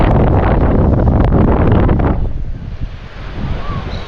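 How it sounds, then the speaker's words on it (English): Strong wind at a beach at Pass-A-Grille in St Pete, Florida, ahead of a storm, roars loudly across the microphone with surf underneath, easing after about two seconds into a softer steady rush. "Oh, that wind's gotten crazy."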